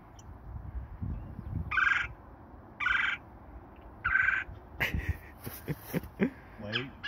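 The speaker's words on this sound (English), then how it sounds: "press the buttons and then it makes bird noises" An electronic bird call device plays short recorded bird songs, three brief chirping calls evenly spaced, followed by people talking over a low background rumble outdoors.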